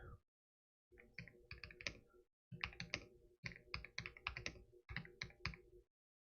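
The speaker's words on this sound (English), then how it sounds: "let me type real quick" Close, crisp clicking of fingers typing on a computer keyboard comes in four quick bursts separated by short pauses, quiet and isolated with no talking.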